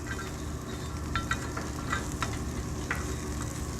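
Fresh quartered carrots cook in a pan, giving a soft continuous sizzle with a low steady hum beneath and a few light scrapes of stirring, close and fairly quiet.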